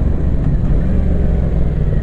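A Yamaha Tracer 700 motorcycle engine runs close and loud, a steady low rumble with slight fluctuations and no voices.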